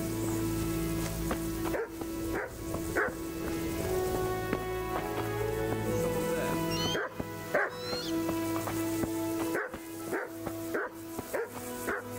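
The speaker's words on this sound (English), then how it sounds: "There's a dog." Dog barking in the video game Kingdom Come: Deliverance, a series of sharp barks repeating at irregular intervals over steady background game music and ambience, moderately loud and fairly close.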